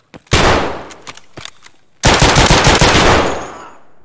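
Rapid automatic gunfire in the shooter Escape from Tarkov, a short opening burst and scattered single shots followed by a longer, loud sustained volley that trails off with echo, no voices.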